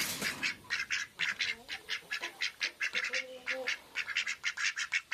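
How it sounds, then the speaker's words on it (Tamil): Several ducks quack in quick, nasal bursts, a busy chorus of calls close by with short gaps between them. "வாத்துங்களாம் எல்லாம் உள்ளார வந்துருச்சு."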